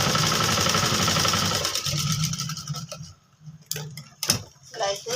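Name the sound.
sewing machine stitching a kurti coat collar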